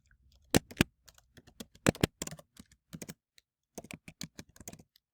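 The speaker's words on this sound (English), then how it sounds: "So you would just type your message." A computer keyboard is tapped in short irregular bursts to type a Zoom chat message, soft close-up key clicks with brief pauses between words.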